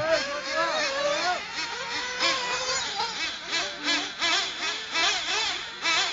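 A small high-pitched off-road RC car engine buzzes and whines at a race track in Krabi, Thailand, revving up and down repeatedly as it races past, loud and continuous throughout.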